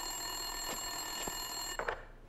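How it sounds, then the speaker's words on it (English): An office desk telephone rings in the video game Max Payne 2, a few repeated bell trills over a steady electronic hum, moderately close and unaccompanied by speech. "Winterson's phone was ringing."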